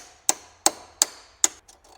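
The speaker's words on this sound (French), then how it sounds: "Un petit coup de marteau pour décoller les entretoises de mon collier." Sharp metallic taps of a hammer knocking the spacers loose on a car exhaust clamp near a blown turbo: four evenly spaced, close, ringing strikes, then a couple of faint clinks.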